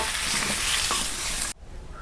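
Plantain, papaya and potato pieces frying with salt and turmeric for shukto, a loud dense sizzle with stirring scrapes that cuts off abruptly, leaving quiet background.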